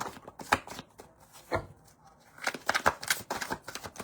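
Tarot cards being shuffled by hand during a Libra reading, a run of soft, quick riffling taps and papery flicks that comes in bursts, close and fairly quiet, with no talking.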